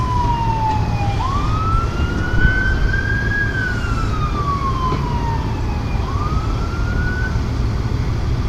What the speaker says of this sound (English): Now we have an ambulance or another siren coming to the scene, if you can hear it.